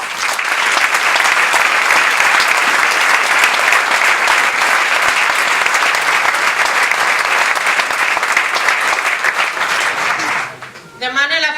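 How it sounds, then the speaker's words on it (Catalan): A hall audience applauds band members marking 35 years with a municipal music society at a Santa Cecilia celebration, steady dense clapping for about ten seconds before it fades and a voice begins speaking. "Per a ells demane un fort aplaudiment."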